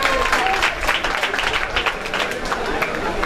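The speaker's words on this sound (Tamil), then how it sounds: "கைதட்டுங்க" Applause fills a hall during a Tamil auction, brisk dense clapping from a crowd sounding throughout, close and fairly loud, with faint chatter mixed in.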